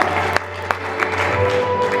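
At the Khouribga African Film Festival's tribute to Cameroonian cinema, a crowd claps for a violinist. The applause is moderate and continuous, with occasional louder individual claps over a low, steady hum.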